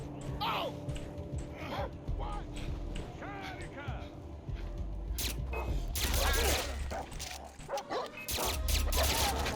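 A dog in the video game Far Cry 3 barks in short repeated bursts, mixed with game sounds and heard under a person talking.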